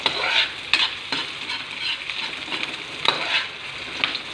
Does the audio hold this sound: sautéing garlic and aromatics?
yes